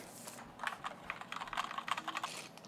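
Unboxing a K2 wireless mechanical keyboard with brown switches: quiet close rustling and a quick run of light clicky taps and knocks, irregular and dense in the middle, faint with no voices.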